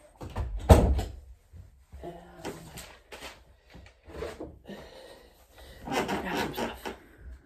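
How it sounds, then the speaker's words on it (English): Wooden door being shut indoors, with a solid thump early on followed by scraping, handling noises and bursts of nearby rustling, with a person talking faintly in between. "Let me just close this door."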